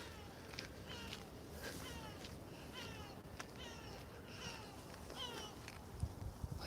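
Faint, repeated mewing calls of seagulls drift down from far overhead in Barcelona, several birds crying in loose succession over soft outdoor noise.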